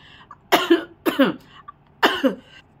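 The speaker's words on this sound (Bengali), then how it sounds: "এসিতে বসে ভিডিও করলে এরকম খুসখুসে কাশি হচ্ছে" Three dry, tickly coughs from an adult sitting in an air-conditioned room, each a short double burst, spaced about half a second to a second apart, close and clear with no talking.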